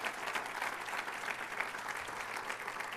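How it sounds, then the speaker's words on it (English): A crowd at an awards event gives another round of applause, a steady, fairly soft rush of many hands clapping together without a break. "Everyone, just applaud them one more time."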